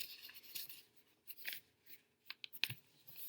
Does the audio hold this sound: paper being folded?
yes